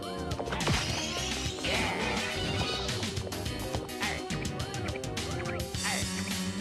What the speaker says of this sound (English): That sound you hear is a spriteling